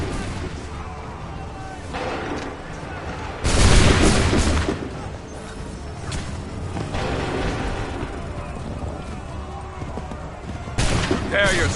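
Massed musket gunfire in Assassin's Creed 3 bursts out loud, once in the middle and again at the close, with lighter shots and a battlefield rumble in between.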